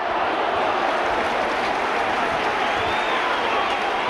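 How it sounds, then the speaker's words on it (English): Crowd at a 1996 Leeds versus Sheffield rugby league match applauding Leeds, a steady dense wash of clapping and crowd noise filling the stadium without a break, with commentary voices faintly mixed in. "Crowd now giving applaud to Leeds."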